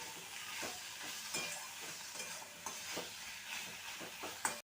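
Fried hilsa fish pieces get stirred into a pot of taro stem curry over a soft, quiet sizzle, with a series of spatula scrapes coming at a loose, regular rhythm and a sharper knock at the end, with no talk.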